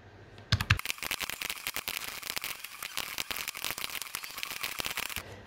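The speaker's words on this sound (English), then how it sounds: "let me type it over" Rapid, steady keystrokes on a computer keyboard at close range, continuous clicking that runs for several seconds after a brief bump, with no talk over it.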